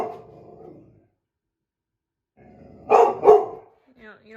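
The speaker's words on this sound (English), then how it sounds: "Are you barking at the humidifier?" A dog barks at a humidifier indoors: a quiet low rumble at first, then two sharp, close barks in quick succession, followed by a short whine.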